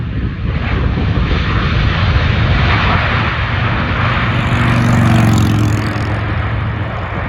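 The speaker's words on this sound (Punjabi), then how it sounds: "ਇੱਕ ਹੋਰ ਜਹਾਜ਼ ਆ ਰਿਹਾ ਲੈਂਡਿੰਗ ਹੋ ਰਹੀ ਹੈ" A loud, steady jet engine roar from a nearby airplane landing at an airport, swelling slightly as it passes, with a low droning hum throughout.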